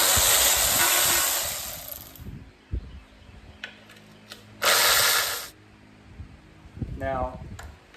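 A ratchet clicks in short bursts as it backs out oil pan bolts on a Ford FE engine, close up, broken by hissing air-tool blasts and someone talking in between.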